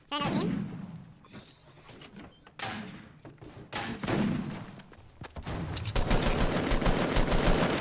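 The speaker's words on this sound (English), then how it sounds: "I'm getting shot from everywhere" Gunfire in a video game shooter, bursts of rapid shots and heavy thuds that come and go, then a sustained dense barrage toward the end, loud and close, with someone talking over parts of it.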